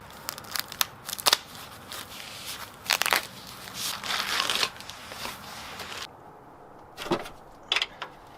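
Cardboard box being opened in a garage during WRX wagon parts work, with sharp crinkling tears and rustling bursts in irregular clusters, close and fairly quiet, with pauses between.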